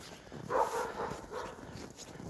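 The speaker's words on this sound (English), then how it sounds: "I'm behind a neighborhood that has a lot of dogs." Dogs in a neighborhood bark and whimper somewhere off at a distance, a few short faint yelps and bow-wows in close succession over low background noise, with no speech.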